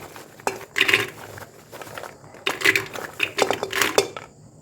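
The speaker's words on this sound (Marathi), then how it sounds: "या सगळ्या शेंगा मी कुकरमध्ये टाकून घेत आहे" Fresh, lightly cracked groundnut pods in their shells tipped into a metal pressure cooker, giving bursts of rattling, clattering impacts in several waves, loud and close with short pauses between pours.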